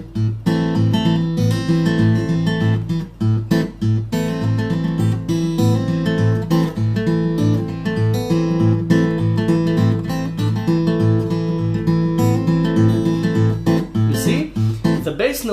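A guitar is played in Travis picking style, with a steady alternating thumb bass pulsing under picked melody notes, continuous and close throughout with no talking.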